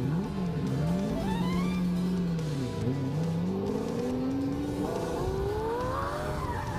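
A rear-wheel-drive car with no clutch revs hard and spins out, the engine note rising and falling in long sweeping whines with a brief drop before climbing again, loud and continuous with no talk.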